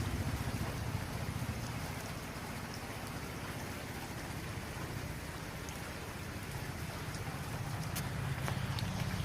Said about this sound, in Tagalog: Ang lakas ng ulan, basang-basang daanan na guys.